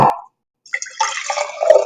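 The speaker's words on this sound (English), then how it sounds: "as we pour the water in" Water is poured into a glass jar, a close, trickling splash that starts after a short pause and builds into a steady gurgling fill.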